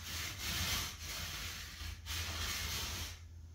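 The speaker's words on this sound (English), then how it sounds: "take your rasp and then just run it along" A hand rasp is drawn along the rough edge of plasterboard in several close, dry scraping strokes with short pauses between them.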